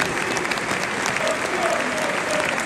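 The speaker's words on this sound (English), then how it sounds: "Please join us in honouring his memory with a minute's applause" A football stadium crowd at Brighton versus Stoke in the FA Cup joins in a minute's applause, a thick, continuous roar of clapping from thousands filling the space evenly and loudly.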